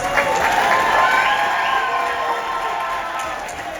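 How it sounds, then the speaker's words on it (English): Applause and cheering from a crowd at a Hindu wedding ceremony (Vivaah Sanskar), steady and fairly loud throughout, with whoops and voices mixed into the clapping, fading slightly toward the end. "So please give her a round of applause"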